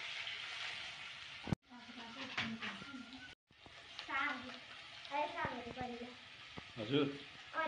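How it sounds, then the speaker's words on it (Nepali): Potato and bitter gourd frying in a pan: a crackling sizzle with stirring scrapes, heard under people talking nearby, with two brief dropouts in the sound. "आलु करेला फ्राई गर्न लाग्यो"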